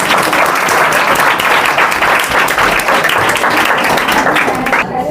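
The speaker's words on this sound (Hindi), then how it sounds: "इसके लिए तो जोरदार तालियां गाइस" Loud, sustained applause from an audience at a Patna City coaching institute event, dense continuous clapping for about five seconds before tailing off at the end.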